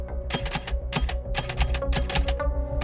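Rapid clacking of an English-language typewriter, keys striking in quick irregular two-finger bursts with brief pauses, close and steady throughout.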